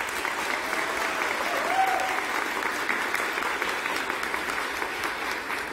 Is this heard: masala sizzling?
no